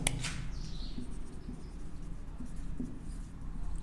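A pen writes out the solution to a differential equation, giving faint, scratchy strokes on paper over a quiet room hiss.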